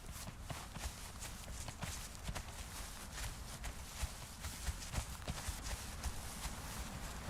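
Steady clip-clop of horse hooves moving at a brisk pace in the video game Conan Exiles, layered over a dense background of ambient noise with no talking.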